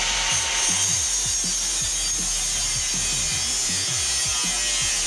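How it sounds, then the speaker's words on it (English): An angle grinder cuts through 16 gauge steel for a costume prop axe, producing a steady, loud, close whine and hiss with rough scraping underneath throughout. "Now I'm gonna cut it out with an angle grinder"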